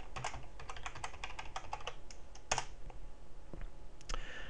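Quick bursts of keystrokes on a computer keyboard as a password is entered, close and clear over a quiet room with no talking.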